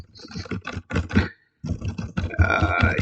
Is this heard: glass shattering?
no